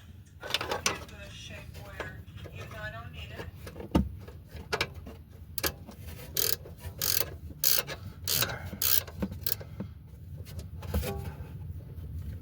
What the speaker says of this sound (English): No, it stopped ratcheting.